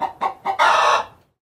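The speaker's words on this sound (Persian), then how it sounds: "مرغ" Farm chicken calls: two or three short clucks followed by a longer, loud crow, close and clear with nothing else around.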